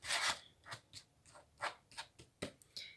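A deck of tarot cards being cut and handled, giving a series of about eight short, crisp papery swishes and slaps spaced irregularly over a few seconds, close and fairly quiet with no talking.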